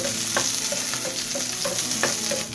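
Pork fat frying and rendering in a pan, a continuous close sizzle with repeated scraping stirring strokes coming through alone.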